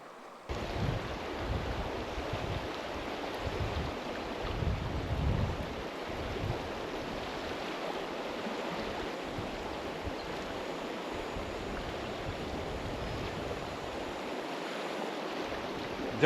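A river flows past a riverbank swimming spot near Perkins Flat, making a continuous broadband rush of water. Buffeting wind noise on the microphone runs through it at a steady, moderate level.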